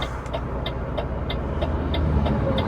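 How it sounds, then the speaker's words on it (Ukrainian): An oversize-load transport vehicle drives past on a road with a continuous loud rumble of engine and tyre noise and faint regular clicking on top, with no voices. "О, ще один оверсайз їде."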